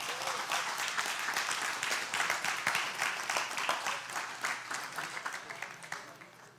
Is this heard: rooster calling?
no